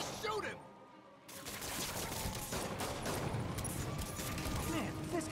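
Dense gunfire in the Marvel's Spider-Man video game, rapid overlapping shots in a loud, busy fusillade that drops out briefly near the start, then keeps crackling continuously over game effects.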